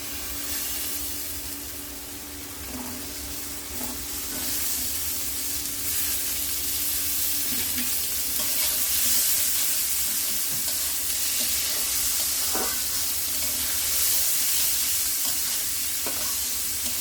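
Bitter eggplant from Rangamati fries in a pan with potatoes, dried and green chilies, onion and garlic, giving a loud, continuous close sizzle with scraping stirring sounds throughout.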